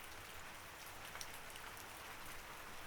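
Soft, steady rain patters on a surface in a continuous hiss, faint and even, with no voices.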